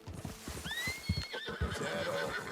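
Hooves clip-clop in a fast gallop uphill while a horse whinnies briefly over the rhythm in the video game Red Dead Redemption 2, fairly close and steady throughout.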